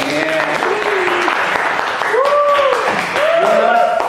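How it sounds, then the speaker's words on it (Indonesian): An audience applauds at a KPP Tasikmalaya tax office event, steady clapping running throughout beneath a few raised voices and tonal calls from the crowd. "Boleh tepuk tangan dulu dong."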